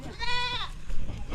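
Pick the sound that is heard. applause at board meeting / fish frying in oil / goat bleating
goat bleating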